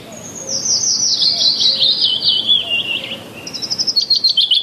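Birds chirp alone in a quick, high twittering run that sweeps downward, followed by a burst of rapid repeated chirps, close and fairly clear over a soft background hiss.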